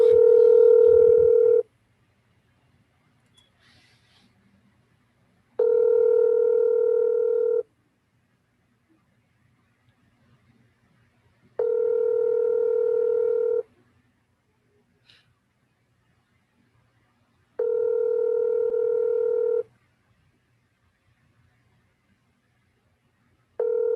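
An outgoing phone call placed during a city council webinar rings out as five long, steady electronic tones, each about two seconds, separated by quiet gaps of roughly four seconds.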